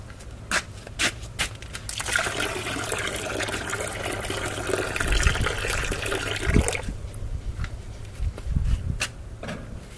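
Water runs and trickles out of a container of dirt and sand being separated, a steady wet splashing flow for several seconds with faint clicks and knocks before and after.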